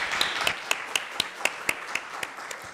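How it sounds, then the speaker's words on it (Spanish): Applause for teachers at the close of a discussion, a few distinct claps spaced at a steady rhythm, fairly faint and sparse, as from a small audience. "Un aplauso para los profesores,"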